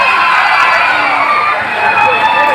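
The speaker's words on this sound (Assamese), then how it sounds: "উদ্যোক্তা মণ্ডলীৰ কাৰণে এটা ডাঙৰ হাত চাপৰি দি তেওঁলোকক যেন আশীৰ্বাদ কৰা" An audience at a Bihu stage show applauds and cheers for the organizers. The loud, dense clapping and crowd noise fill the whole short burst steadily.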